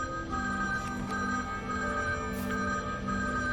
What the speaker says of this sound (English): Phone's ringing. You should answer it.